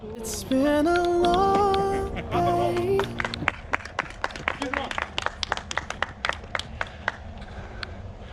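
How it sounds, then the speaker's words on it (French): A small group of mountain bikers outdoors claps for themselves after talking, with scattered, irregular hand claps ringing out sharply across the second half of the moment. "On peut s'applaudir,"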